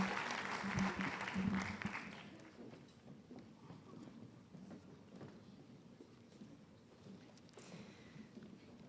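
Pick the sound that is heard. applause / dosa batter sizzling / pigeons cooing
applause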